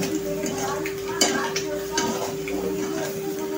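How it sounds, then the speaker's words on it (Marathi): Eggs frying in masala with a half spoon of oil on medium heat, giving a steady soft sizzle with occasional spoon stirring and scraping clicks against the pan, close and continuous. "आपण ह्यांना मीडियम गॅसवरती छानपैकी असं फ्राय करून घेणार आहे मसाल्यामध्ये"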